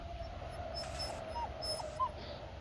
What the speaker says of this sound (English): the little puppies